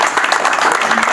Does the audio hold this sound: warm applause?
yes